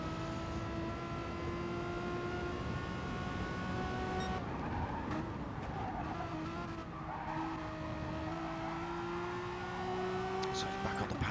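A Renault Megane Trophy race car on an onboard hot lap at Lago Maggiore roars continuously through its gears, engine pitch rising and falling with shifts, with tyre noise and a commentator talking over it.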